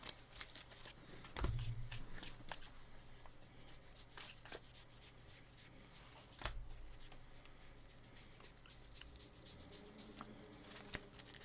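A deck of playing cards is shuffled by hand at a card game, with soft riffling and sharp card snaps recurring irregularly over quiet room tone.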